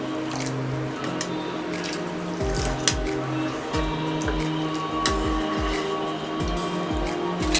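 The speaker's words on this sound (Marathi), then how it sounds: "पाणी घालूया।" Water is poured into a pan of frying lentil dal, giving close wet splashing, dripping and bubbling sounds over a steady hiss, with no talking.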